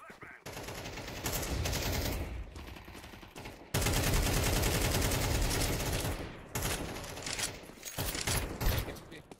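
Rapid gunfire crackles from Counter-Strike 2 play, with dense, loud bursts filling most of the moment and a few short breaks between volleys.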